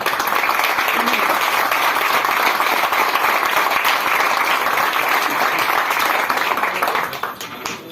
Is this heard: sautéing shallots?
no